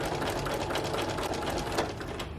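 A sewing machine stitching a rolled hem on fabric runs in one continuous, close, loud burst of fast, even needle clatter, with no voices.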